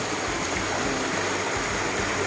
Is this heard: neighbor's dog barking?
no